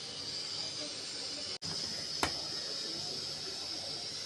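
Hot oil hisses and sizzles steadily in a pan while being heated for tempering garlic chili thecha, with one brief click partway through.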